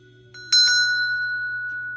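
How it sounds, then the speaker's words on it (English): A single bright crown chakra bell strike rings out clearly, with a second quick tap, then a long sustained metallic tone that slowly fades. "So this here is a crown chakra bell."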